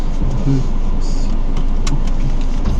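Inside a new car while driving, a steady, close road and engine rumble fills the cabin with an even, unbroken drone and a few faint clicks.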